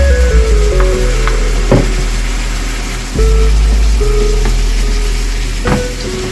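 Lamb steak sizzles steadily in a hot frying pan, a continuous loud crackle with occasional sharper pops and scraping clicks from handling the pan, no talking.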